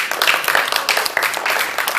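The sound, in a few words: smattering of concert audience applause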